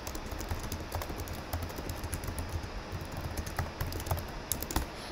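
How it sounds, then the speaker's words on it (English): Steady keyboard typing on a computer keyboard, entering an admin command in the game Greenville, with rapid irregular key clicks continuing throughout at a moderate, close level and no talking. "you can type a command there"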